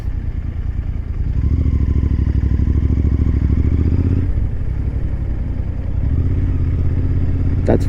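A motorcycle engine runs loud and close, revving in a steady throbbing rumble that rises and falls with a brief dip midway, with no talking over it.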